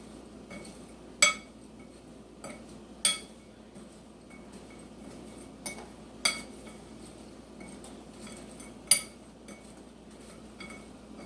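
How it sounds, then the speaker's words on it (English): A metal spoon stirring noodles in a cooking pot gives a handful of sharp, isolated clinks and scrapes spaced a second or two apart, close by over a quiet background with no talking. "Stir up the noodles with the spoon here."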